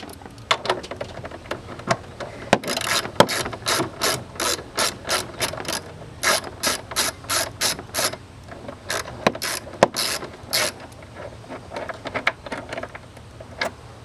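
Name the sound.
8mm socket ratchet loosening band clamp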